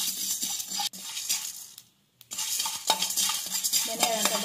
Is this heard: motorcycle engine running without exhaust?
no